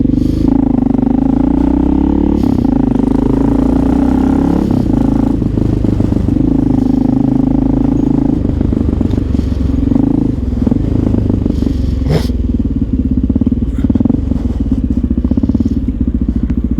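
A Honda XR650L motorcycle engine rumbles steadily and loudly while riding through city streets, a deep continuous throb with shifting pitch and occasional rattles and clatter.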